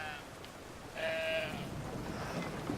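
A sheep bleats in the video game Brothers: A Tale of Two Sons, one clear wavering call rising over a steady background hum of game ambience.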